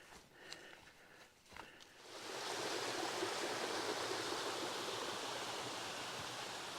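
A creek flows beside a campsite on the Bartram Trail, first faint with a few footstep-like knocks, then swelling after two seconds into a loud, steady rushing of water that holds to the end.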